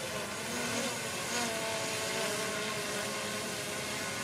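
A DJI drone hovers overhead with a steady, broad whirring rotor drone, moderately loud and continuous throughout, with no voices.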